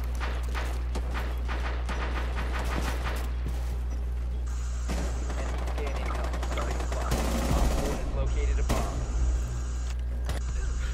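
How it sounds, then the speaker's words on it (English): Rapid gunfire bursts in Rainbow Six Siege, crackling in dense clusters over a steady game hum, with louder, busier firing toward the end and a voice talking faintly at times. "I shot Montag in the fucking kneecap"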